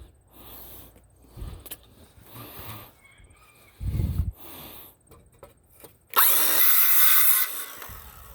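A power drill drives screws into wood while repairing sagging insulation under a single-wide trailer: short bursts of whirring and grinding, with a louder, longer burst near the end and quiet handling noises between.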